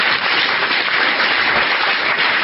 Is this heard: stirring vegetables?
no